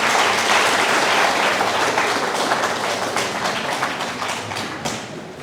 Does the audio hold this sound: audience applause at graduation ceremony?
yes